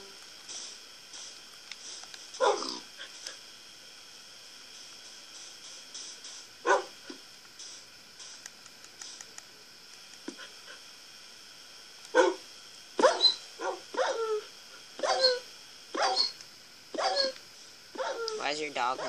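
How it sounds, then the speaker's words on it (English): A dog in a block-building video game whimpers and yelps while suffocating inside a wall, giving short bursts of cries scattered irregularly, some clustered close together, over faint background game sounds. "There's a dog suffocating in the wall."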